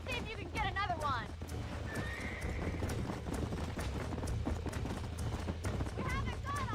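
Horse in the video game Red Dead Redemption neighs loudly near the start and again at the end, with galloping hoofbeats throughout under game sounds and shouted voices.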